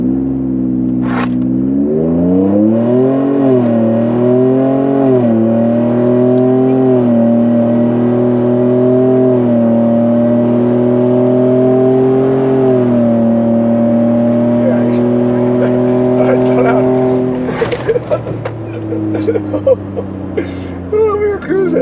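A fast pickup truck accelerates hard on a quarter-mile run. The engine note climbs and holds through gear changes for about seventeen seconds from inside the cab, then the pull drops off with some rattling.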